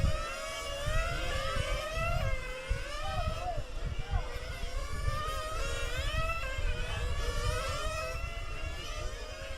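Nitro-engined 1/8 scale RC race cars whine and buzz around a track at the SCS Toys for Tots 8th Scale Open A Main, high revving engine notes rising and falling as they pass, with a race announcer talking continuously over them.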